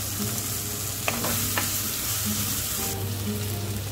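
Sliced onions sizzle and fry steadily in a pan for a prawn masala, with occasional stirring clinks over the continuous crackle, close and moderately loud with no talking.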